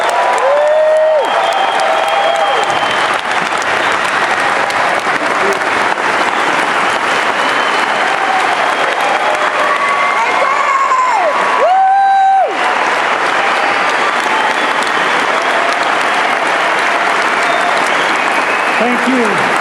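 A Salt Lake City theater audience breaks into sustained applause and cheering for Jordan Peterson, a dense steady roar of clapping with occasional whoops and whistles rising above it throughout.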